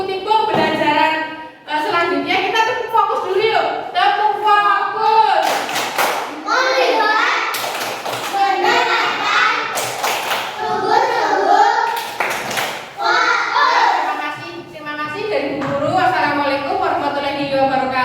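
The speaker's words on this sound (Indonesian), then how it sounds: "kita tepuk fokus dulu yuk. Tepuk fokus." Group of children clapping a rhythmic classroom cheer called tepuk fokus in an Indonesian school lesson, patterned bursts of claps mixed with children's chanting voices throughout.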